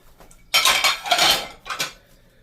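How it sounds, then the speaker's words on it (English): Greasy dishes, pots and cutlery being washed by hand in a kitchen sink with warm water and lemon-scented dish soap, giving loud clattering and clinking bursts of metal and crockery close by, with no talking. "I might as well just record the whole process of washing all the dishes."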